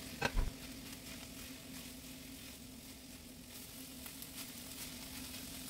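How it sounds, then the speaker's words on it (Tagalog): Onion and boiled shredded chicken sauté in a pan with a soft, continuous sizzle, opened by a brief clatter of the spoon or pan before the low frying hiss settles in. "Isunod na igisa ang onion hanggang maging translucent."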